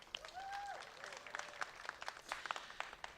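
Scattered outdoor applause from the audience at a Pride flag raising ceremony in Pasadena, light and fairly distant, with a voice speaking faintly near the start.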